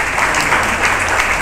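An audience at a community forum claps steadily in dense, loud applause throughout the short moment, with no talk over it.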